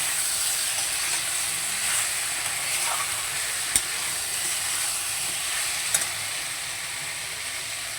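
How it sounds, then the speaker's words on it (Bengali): Spice paste frying in oil in a home kitchen pan, giving a steady, close, unbroken sizzle with a couple of faint clinks and no talk. "দেখো খুব সুন্দর করে মশলাটাকে আমি কষিয়ে নিচ্ছি, আর মশলা থেকে তেল ছাড়তেও শুরু হয়ে গেছে"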